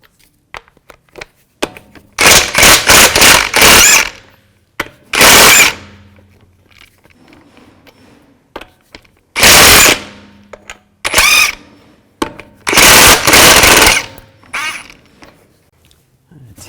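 An impact wrench with a 22mm socket rattles off stuck lug nuts on a 2010-2016 Buick LaCrosse, loud near bursts of hammering repeated several times with quiet gaps between them.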